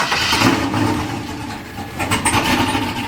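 A Chevy Nova on a nearly drained jump box cranks and catches, its engine churning and rumbling close by in uneven surges.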